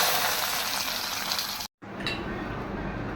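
Food fries in a pan on top of garlic, onion and dried chili, a continuous close crackling sizzle that cuts out for a moment and then resumes a little softer, with no voices.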